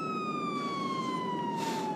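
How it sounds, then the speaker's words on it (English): A police car siren in GTA 5 wails continuously with a slowly falling tone, fairly near and steady, alone without talk and ending with a brief click. "I know the sirens are a little bit annoying."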